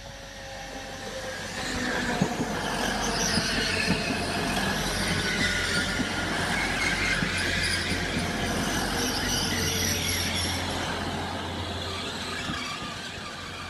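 Class 180 diesel unit 180111 pulling into platform 2 at Grantham station on a Hull service, a loud rumbling approach with low engine drone, rattling wheels and thin squeals of brakes growing closer over a sustained passage, no talking.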